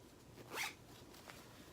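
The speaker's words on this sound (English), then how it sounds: "So you just zip it up and down like so." A pants zipper on the back of a garment run quickly up and then down, one clear rasp followed by a softer second pass, close and quiet with no talk.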